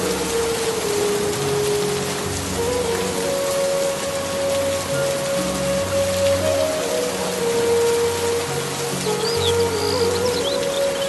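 Steady rain falls over a wide area, a continuous wash of hiss with faint bird chirps in the background.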